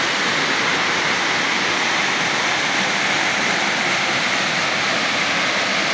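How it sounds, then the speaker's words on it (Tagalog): Loud, constant rushing of Banahaw Falls in Merida, Leyte, swollen after rain, a dense roar of falling water with no pauses or other sounds. "Banahaw Falls mga ka-Jerbox. So, malakas na ang tubig"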